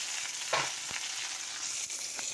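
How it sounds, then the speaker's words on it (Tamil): Vegetables sauté in hot oil for a Tamil kuzhambu, giving a steady close sizzle and crackle with a few brief stirring scrapes and no talking. "பாவக்காய் எண்ணெய் ஊற்றி வதக்கிற மாதிரி இதையும் நல்லா வதக்கிட்டு அப்புறம் குழம்புக்குள்ளே கொட்டிடுவோம்"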